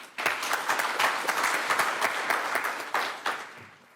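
Sustained applause from a conference audience at a TVET event, many hands clapping steadily for several seconds with a few louder bursts near the end.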